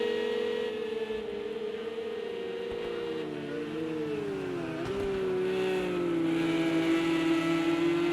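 Race cars in a video game race through Maggots and Becketts, a sustained loud engine whine that rises and falls in pitch through gear changes and cornering, with several cars layered together.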